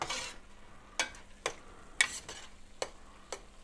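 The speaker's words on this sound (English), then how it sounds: "Stir it around." A spoon stirs Cajun-style oyster dressing in a pot, giving several separate scraping strokes at an irregular pace over a faint sizzle, close and fairly quiet.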